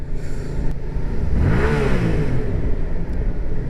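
A motorcycle engine on a wet road rises in pitch as the rider accelerates through the gears, a loud, close, sweeping rev that climbs and then settles into a steady drone, with wind rush behind it.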